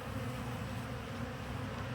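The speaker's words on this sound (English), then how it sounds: "there's just a flurry of activity right now that the bees are trying to make their way in" Honey bees swarm a new hive while fighting off native bees on the ground, a faint, continuous buzzing drone that holds steady without any voices.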